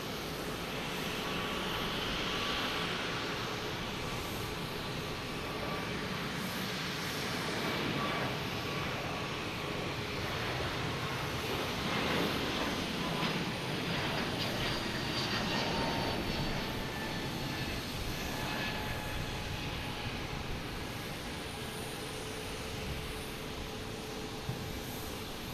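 A JetBlue Airbus A220 bound for Vancouver departs Boston Logan in the evening, a distant, faint broadband jet rumble that rises and swells gradually under steady background noise, with no voices.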